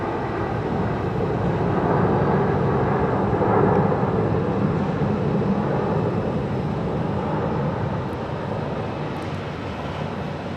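A jet airliner taking off from Phoenix airport roars steadily for about ten seconds, a broad, loud rumble that swells slightly near the middle before easing off.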